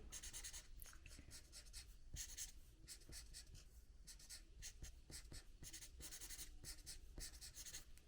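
A pen or marker scratches short repeated strokes on paper, drawing lines for a St. Patrick's Day picture; quick, close, rhythmic scratching in bursts, alone and fairly quiet.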